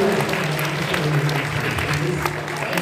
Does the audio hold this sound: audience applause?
yes